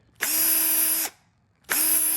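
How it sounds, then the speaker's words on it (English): A power drill fitted with a 1/64 bit bores a hole in a Traxxas Slash RC truck bumper for an LED light bar, two close whining bursts separated by a short pause. "then you're going to drill your hole. You're going to use a 1/64 bit."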